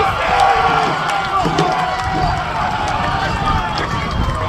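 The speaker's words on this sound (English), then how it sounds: "he crushed that delivery from Josh Shimon, and that gets the Ridgepoint crowd up" Baseball crowd at a Ridge Point Panthers high school game roars and cheers after a home run, a loud sustained outburst with yells and whoops mixed under an excited announcer talking throughout.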